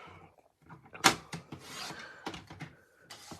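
Cardstock sheet being cut into card pieces with a paper trimmer, a string of close rasping, scraping strokes and small clacks with short quiet gaps between them, no voices.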